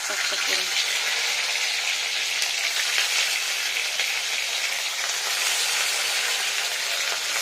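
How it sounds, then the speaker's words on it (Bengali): Chhana paturi wrapped in pumpkin leaves fries in hot mustard oil in a wok, a loud, steady, dense sizzle that holds unbroken from start to end with no talk. "সর্ষের তেলটা গরম হয়ে গেছে এবার আমি পাতুরিগুলোকে দিয়ে নেবো"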